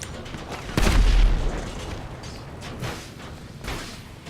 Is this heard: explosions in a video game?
yes